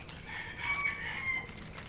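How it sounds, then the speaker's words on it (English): Chickens on a farm cluck while a rooster crows once, moderately close and clear, in a short burst against quiet outdoor ambience. "the chickens are in that house over there."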